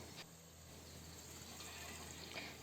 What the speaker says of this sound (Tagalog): Lagyan na din natin ito ng tubig.